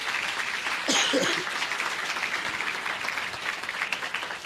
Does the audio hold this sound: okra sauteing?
no